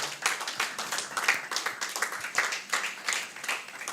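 Audience at a conference convening clapping for a team, a dense round of hand claps with uneven rhythm, close and lively throughout.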